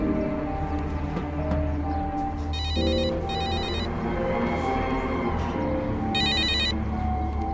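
A telephone rings in a Hindi film scene: two short electronic ring bursts, a pause, then a third, clear and close over a steady low background.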